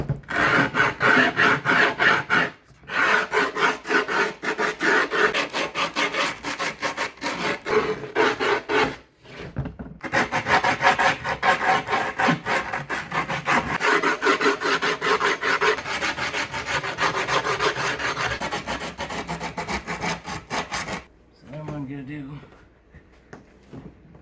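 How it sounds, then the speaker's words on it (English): Rasping, rhythmic filing strokes as a Spitfire skate tool files down the grip tape edges on a Powell Flight skateboard deck, loud and close, steady back-and-forth scraping with two brief pauses. "I will grind down or file all these edges."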